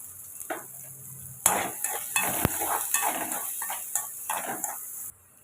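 Vegetables for fried rice sizzle in a hot pan with salt as a spatula repeatedly scrapes and stirs, a close, busy clatter with no voices.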